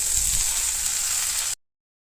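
Garlic and onion frying in a hot pan give off a loud, steady sizzle that runs unbroken, then cuts off abruptly.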